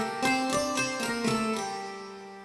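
Metallic, twangy notes from a sampled Taishogoto keyed zither ring out in a steady sequence. A long 3.5-second plate reverb lets the last tones decay into a smooth wash. The instrument plays alone.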